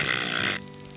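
A human voice imitates the crackling wing sound of a band-winged grasshopper, producing a brief, buzzy, throaty rasp that stops abruptly about halfway through, leaving a faint tonal hum.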